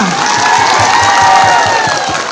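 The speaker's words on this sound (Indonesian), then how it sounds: "Kita berikan tepuk tangan untuk kelas 10 IPA." Crowd of students at a high school Youth Pledge Day ceremony in South Nias breaks into sustained applause and cheering for a tenth-grade class, loud and dense from start to finish.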